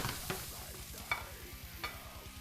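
Steady crackling sizzle of pork loin frying in a pan, with a few soft scraping stirs and clinks, close and alone.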